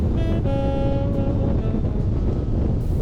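Strong, continuous wind buffeting roars across the microphone while riding in heavy winds in Iceland, with a faint engine hum running beneath it throughout.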